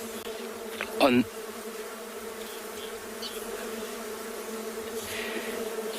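Bees of a non-honeybee species that carry pollen on hairs under the abdomen buzz steadily at a sunset safari in the Kalahari, a close pass near one second over a constant hum, with faint talk.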